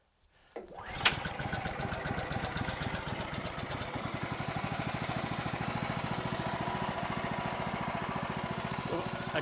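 An HM130 portable sawmill starts up and runs steadily at a close, even mechanical drone with a fast repetitive chatter, cutting into a large log continuously for several seconds without anyone talking.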